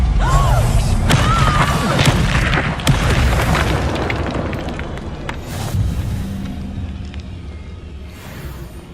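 Confringo fire spells cast in the Hogwarts Legacy video game, a dense run of booming blasts and crashing impacts with sharp pops over a constant loud rumble, sustained throughout and fading slightly toward the end.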